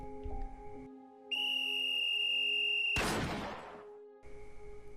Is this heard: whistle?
yes